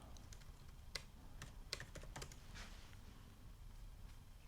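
Typing on a computer keyboard while searching for a Traxxas BG630 part, with scattered clicky keystrokes in uneven bursts, close and fairly quiet over a low background hum.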